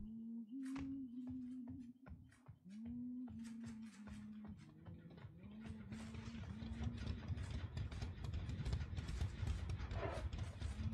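A horse in the Dead by Daylight video game gives a steady run of clopping hoof-like knocks over a low mechanical hum, growing denser and louder toward the end, with no talking.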